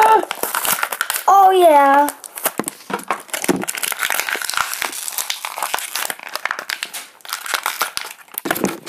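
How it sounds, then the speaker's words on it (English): Plastic packaging crinkles and crackles nearly throughout while a Skylanders Trap Team Dark Sword trap is unboxed, with close, busy rustling bursts and a voice speaking briefly near the start. "I'm gonna unbox it, so let's get to it."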